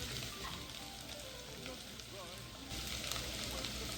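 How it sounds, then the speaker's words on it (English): Rice toasts in a hot pan for risotto, giving a steady, dense sizzle close by with a few faint scraping stirs. The sizzle runs without pause and grows slightly louder near the end, and no one speaks. "Okay, now we add the rice. And just to increase the heat to medium-high and cook until the rice smells toasty."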